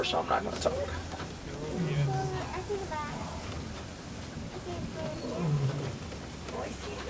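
Low growling roars from a lion on the Kilimanjaro Safaris ride at Animal Kingdom, several drawn-out calls at middle distance under rumbling vehicle noise and a guide's commentary.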